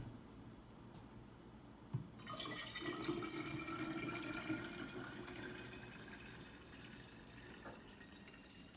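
Kangen deep-cleaning liquid is poured back onto a surface, a faint, continuous splashing pour that starts suddenly and trails off into a soft trickle, heard close up without talk.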